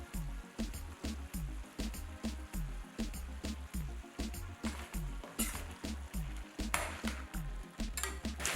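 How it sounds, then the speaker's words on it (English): Stewed chicken cooking in a pot is stirred with a utensil, giving steady rhythmic scrapes and soft squelches over a constant sizzle, close and moderately loud, with no talking. "Next, we'll give it a stir."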